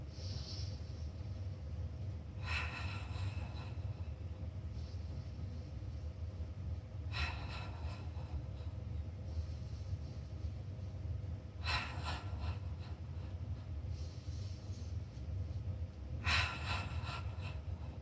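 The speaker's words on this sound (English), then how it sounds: "All right, take a few breaths." Deep, slow breaths taken during a mat Pilates workout, with four strong breathy bursts spaced about four to five seconds apart over a steady low room hum.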